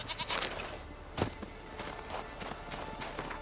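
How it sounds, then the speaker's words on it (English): Billy goats bleat on a mountainside in The Witcher 3: Wild Hunt, a few short cries mixed with footsteps on the ground, fairly close, no talk. "Some billy goats."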